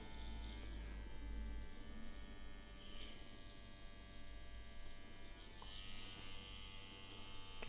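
A JCONLY EPOCH tattoo machine runs at 8 volts, giving a steady close electric buzz with an underlying hum that holds throughout, with no talk.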